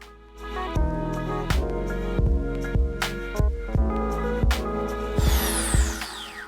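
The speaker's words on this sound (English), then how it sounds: "Select number 2, fastest RPM, and we can start the pilot drill drilling." Pilot drill cutting into a Danfoss flanged ball valve with a Tonisco Jr Red Line drilling machine at its fastest speed: a steady loud grinding drone with a regular rhythmic knock about every half second, and a rising whine near the end.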